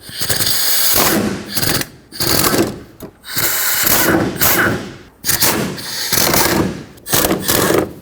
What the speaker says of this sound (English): Take out these three bolts on the driver's side.